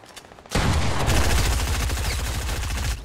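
Sustained minigun fire in Fortnite: a loud, dense stream of rapid shots starts abruptly after a brief quiet moment and rattles on steadily for several seconds before cutting off near the end.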